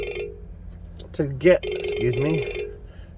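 A phone rings with an incoming scam call, a repeating electronic ringtone heard close and fairly loud, while a person speaks over it and briefly after.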